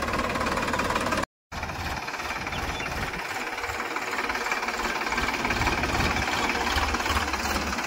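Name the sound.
tractor engine running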